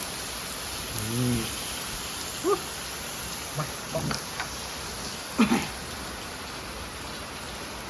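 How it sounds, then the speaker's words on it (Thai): Steady hiss of rain falling throughout, with a few brief voices and thumps breaking through now and then. "ฝนก็ตก ไม่หยุดไม่ยั้งเลย"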